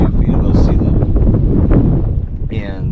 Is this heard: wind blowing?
yes